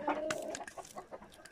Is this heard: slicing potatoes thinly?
no